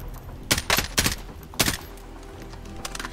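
A few short bursts of gunfire in the video game Warzone, sharp cracks in quick clusters over about a second, then quiet ambience with only faint distant pops.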